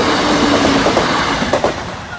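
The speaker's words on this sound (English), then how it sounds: "second train is just passing the signalling centre now" A train rolls past the Boultham level crossing, a loud, close, continuous rumble of wheels on rails with faint clickety-clack and a brief squeal.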